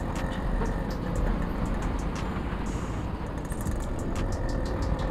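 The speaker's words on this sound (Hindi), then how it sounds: "RX100 का वो आवाज़ ही बहुत बढ़िया लगता है सुनने में।" Engine of a Yamaha RX100 motorcycle on a ride near a village dam, a steady loud drone with wind rush throughout, carrying several riders along the road.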